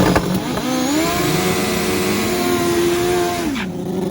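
An old school Kawasaki KZ drag bike engine screams loud and close at full throttle, holding a steady high-pitched wail for several seconds before the revs drop sharply near the end, with no talk.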